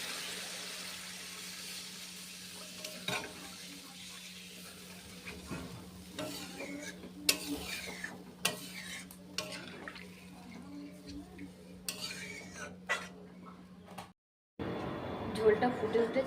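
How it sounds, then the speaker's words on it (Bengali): Water goes into frying masala for a Bengali doi potol curry. A low hum runs under soft sizzling and irregular spatula scrapes and taps on the pan, quiet and close. The sound cuts briefly near the end, then returns louder. "আমি জল ঢেলে দেবো এর মধ্যে।"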